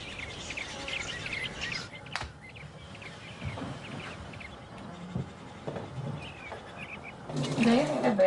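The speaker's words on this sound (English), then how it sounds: "The robins are singing out there, so the bears are awake." Robins singing outdoors just outside Yellowstone, clear chirping phrases repeating at moderate distance over faint rustling background, with scattered louder calls and a brief thump near the end.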